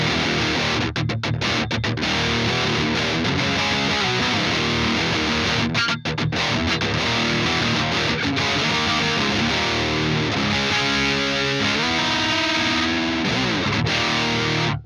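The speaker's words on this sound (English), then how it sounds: "this is the gain pedal on the clean sound" An electric guitar plays through a TODP gain pedal set on a clean amp sound, producing a loud, dense, distorted tone with strummed chords and brief choppy breaks, continuous throughout with no speech.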